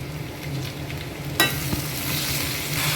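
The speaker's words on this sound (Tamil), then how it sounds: "வெங்காயம் பூண்டு எல்லாம் நல்லா வதங்கிச்சு இப்போ நம்ம தக்காளி ஆட் பண்ணிடலாம்" Onion, garlic and tomato fry in hot oil for a tamarind kuzhambu, a steady close sizzle with a sharp clink of a utensil partway through and continuous crackling afterward.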